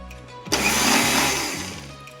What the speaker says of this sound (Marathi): आता मिक्सरला लावून घेते